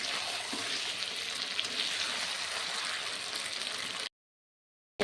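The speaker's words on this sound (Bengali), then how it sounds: "কত সুন্দর কালার এসছে চিকেনটা কষা হচ্ছে" Chicken sautéing in a pan for kosha, a dense, steady sizzle close by that runs unbroken for about four seconds and then stops dead into silence.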